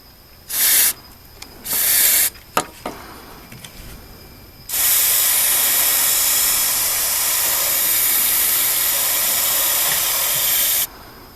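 Spray nozzle hissing inside the floor of a 1978 El Camino during rust patch panel work: two short bursts, a few clicks, then a long steady spray lasting several seconds, close and loud.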